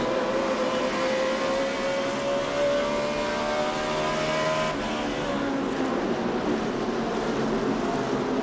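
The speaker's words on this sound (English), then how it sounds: "You hear the engine revving, the rhythm that Dale Earnhardt Jr. is in when he has that clean air" Dale Earnhardt Jr.'s NASCAR Sprint Cup race car engine drones loudly from inside the car, a steady sustained revving tone that shifts in pitch partway through, with no voices over it.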